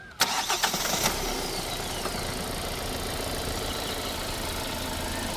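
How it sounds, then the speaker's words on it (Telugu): A 2023 Hyundai Verna diesel engine cranks and catches with a sharp burst, then settles into a steady, rough diesel idle that continues close by. "ఒకసారి ఇంజన్ అయితే స్టార్ట్ చేస్తున్నానండి"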